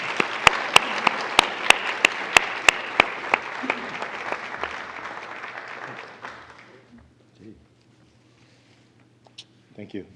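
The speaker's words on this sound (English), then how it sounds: "Please give him a round of applause." An audience applauds to welcome Dr. Lorrin Pang, loud dense clapping with several sharp loud claps early on, fading out after about six seconds into near silence with a few faint sounds.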